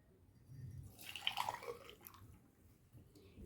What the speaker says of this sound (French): une petite passoire, et je vais égoutter ce mélange dans un autre verre